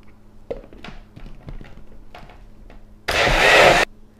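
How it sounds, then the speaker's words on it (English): A blender whirs a jalapeno, serrano, lime and tomatillo BBQ mopping sauce packed with cilantro: a few soft clicks and taps, then a loud, dense burst of blending lasting under a second before cutting off. "And now we'll go ahead and blend this up."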